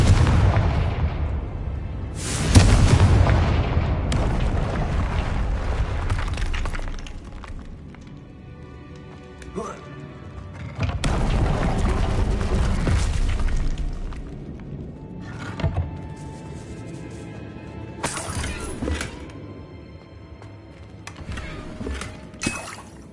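Confringo fire spell explosions in Hogwarts Legacy, several loud booming blasts with rumbling tails spaced across the stretch, separated by quieter ringing tonal game effects.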